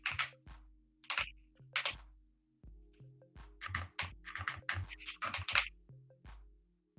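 Someone types on a computer keyboard in short bursts of quick, close clicks and key thunks, broken by brief pauses, over a faint low electrical hum.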